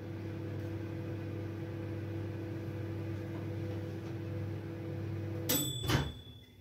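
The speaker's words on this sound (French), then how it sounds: "10 secondes au micro-ondes" A microwave oven heats softened gelatin for a dessert, giving a steady close-up electrical hum that ends with a couple of sharp clicks and a door thump, without speech.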